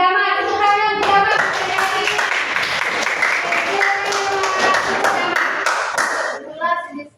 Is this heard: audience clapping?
yes